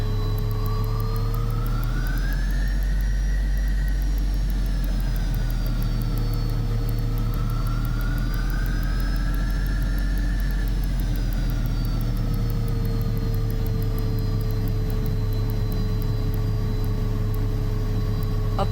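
Twin jet engines of a Learjet 35A spool up for takeoff in a flight simulator, a loud steady roar with rising and falling whine tones that swell and ease across the run, continuous with no voices.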